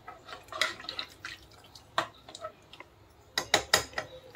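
A spoon stirs chickpea bhaji gravy in a pot, giving soft wet clinks and scraping taps in irregular bursts, close and fairly quiet.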